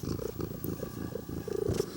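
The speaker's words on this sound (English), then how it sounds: "Still got purrs, don't you, though," A sick, thin pet cat purrs close to the microphone in a soft, steady rhythmic rumble that carries on without a break.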